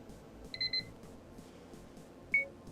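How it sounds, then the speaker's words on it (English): An Akeeyo rear passenger camera dash cam's timer alarm sounds two short electronic beep bursts, the first a quick double tone and the second a single bright chirp, over a quiet background hum. "Once the timer reaches the end, you get a nice simple alarm"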